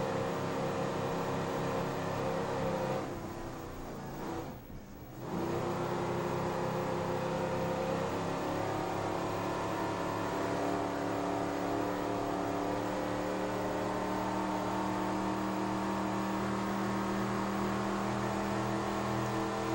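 Racing powerboats power out of a turn with throttles down, giving a loud, steady engine roar with a brief dip partway through before it returns at full strength.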